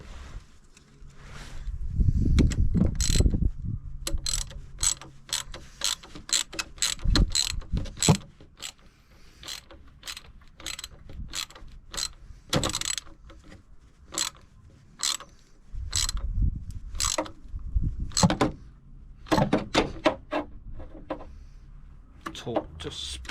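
A ratchet wrench clicks steadily while tightening a fitting on a Nissan 300ZX twin-turbo engine during a rebuild, close rapid bursts of sharp ratcheting with clunks of metal parts between them.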